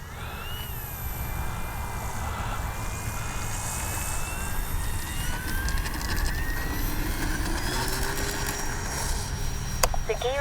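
A Durafly 1100mm T-28 Trojan electric RC warbler plane takes off outdoors, its motor a steady whine that rises and shifts in pitch as it climbs away, with wind rumble and a few clicks near the end.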